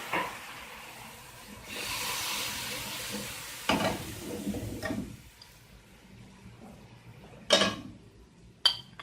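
Ginger and garlic masala sizzles as it fries in a pan, with a steady hiss under intermittent scraping strokes of a spoon and a few sharp clinks against the pan, close and moderately loud.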